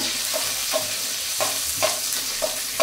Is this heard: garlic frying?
yes